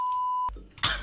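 A single steady censor bleep tone holds for about half a second and cuts off abruptly, followed by brief noise bursts and no speech.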